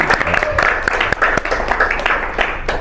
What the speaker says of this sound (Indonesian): Kita beri tepuk tangan dulu untuk calon panitia terpilih.